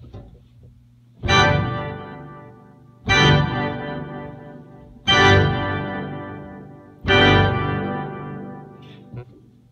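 Four evenly spaced church pipe organ chords with the organ's reverb effect on, each struck with a bright attack and trailing off in a swirling, reverberant wash.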